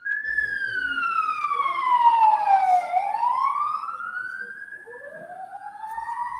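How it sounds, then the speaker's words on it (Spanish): Emergency vehicle sirens wail loudly and close by, one sweeping tone rising and falling while a second siren joins near the end. No speech is heard. "no sé si me están alcanzando a escuchar por las sirenas, por eso paré"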